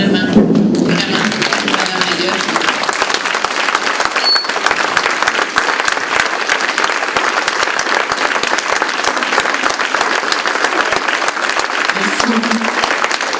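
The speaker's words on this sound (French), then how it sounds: "je vous demanderai de vous lever et d'applaudir très fort" Conference audience standing and applauding loudly, a dense sustained wave of clapping filling the room from start to finish, with a brief spoken word from the speaker near the end.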